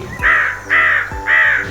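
Crows caw three times, each call a loud, harsh, drawn-out cry, close by with short pauses between calls.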